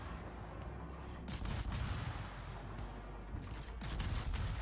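Warship turret guns fire in World of Warships as a few heavy, booming salvos, rumbling and somewhat distant, over a constant low background roar.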